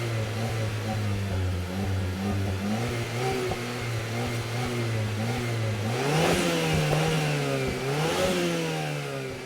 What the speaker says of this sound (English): Now listen to that engine.